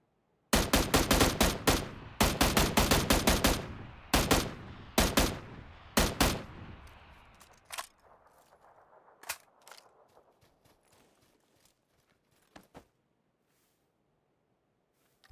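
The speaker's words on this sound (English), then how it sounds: "found this poor guy that just couldn't find me while I'm shooting him" Bursts of gunfire from shooting an enemy in the PUBG video game, several loud rapid volleys in the first seven seconds, then sparser single shots fading out with a few distant cracks near the end.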